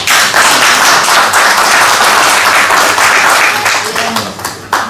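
A hall audience claps loudly in dense, sustained applause that holds strong for most of the five seconds before tapering slightly, with a last burst of claps at the end.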